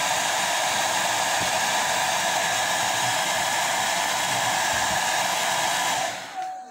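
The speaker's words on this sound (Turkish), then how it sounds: "Fön makinesi çok sıcak ya," A hot hair dryer blows steadily at close range while painted ceramic pieces are dried, a continuous loud rushing whir that runs for about six seconds before cutting off and winding down.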